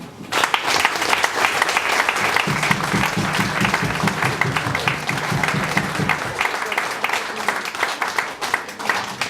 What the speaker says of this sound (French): je vous invite toutes et tous à lui adresser des applaudissements nourris et mérités